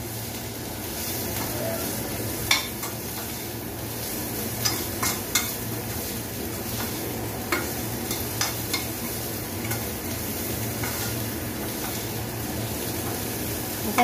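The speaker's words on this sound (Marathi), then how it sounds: "आपल्याला फक्त परतायचे आहे, याचा कच्चेपणा घालवायचा आहे" Chopped soya chunks are sautéed in a pan for a chili soya manchurian, a continuous sizzle with a low background hum under repeated scraping stirs and occasional sharp spatula clicks near the start and middle.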